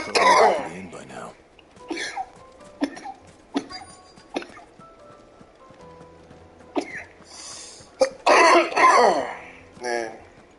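A man coughs and clears his throat several times in a Final Fantasy 16 game scene, short harsh bursts spread across the stretch, loudest near the end, with some voiced groans between them.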